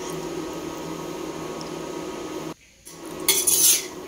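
Carp pieces go into a cooking pot for a carp and cauliflower curry, giving a brief clatter of metal and utensils near the end over a steady kitchen hum.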